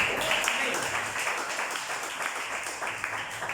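Church congregation applauding during a pastor's sermon, a steady wash of many hands clapping that fills the space without pause, with no speech rising above it.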